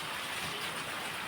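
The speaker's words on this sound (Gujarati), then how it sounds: "આ તો વરસાદ આવવા માંડ્યો." Rain falls outdoors during a monsoon shower as a steady, even hiss, moderately faint and unbroken, with no voices.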